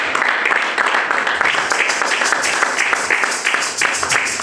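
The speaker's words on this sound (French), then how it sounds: "On acclame le Seigneur." A church congregation applauds in praise of the Lord, loud sustained clapping from many hands, dense and continuous, with faint voices mixed in.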